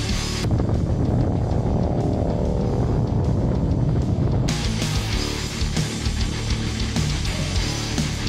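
A motorcycle engine revs continuously and loudly nearby, with sustained low rumble and a shift in tone partway through, recorded during a ride on the Blue Ridge Parkway in Western North Carolina amid some wind noise.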